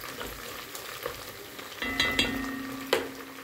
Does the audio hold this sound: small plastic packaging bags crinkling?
no